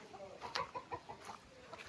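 Chickens kept on a rural farm property give soft, scattered clucks, a few short calls standing out over quiet outdoor background.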